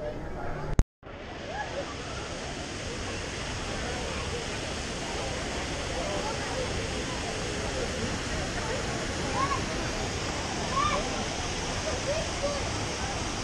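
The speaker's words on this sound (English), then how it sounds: "Don't they have a beautiful waterfall over there?" A waterfall at Knott's Berry Farm in Buena Park makes a steady broadband rush of falling water. It sounds moderately close and continuous after a brief click at the start, with faint voices in the background.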